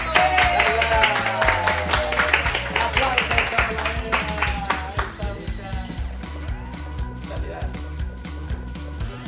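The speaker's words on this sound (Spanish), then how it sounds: "¡Aplausos!" Family members clap together while a birthday cake is cut at home, a few pairs of hands tapping fairly close and steady for about six seconds under lively, overlapping talk and laughter, then fading as the talk carries on.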